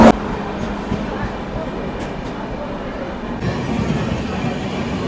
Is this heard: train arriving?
yes